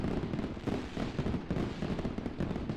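Fireworks go off as a stream alert effect, a dense run of crackling pops and bursts repeating in quick clusters, loud and steady with no talk over them.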